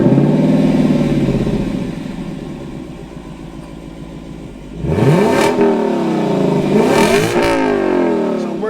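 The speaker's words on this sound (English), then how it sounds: "It is such a sweet engine, and it sounds like this." Lexus V8 engine, the one shared with the LC, RC F and GS F, idles with a throaty burble, then snaps through two sharp, loud revs that rise and fall close by.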